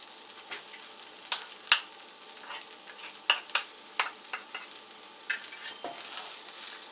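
Shrimp fried rice sizzles in a hot pan while a spatula scrapes and taps against the metal in irregular bursts, the quiet frying hiss running underneath the sharper stirring clatter.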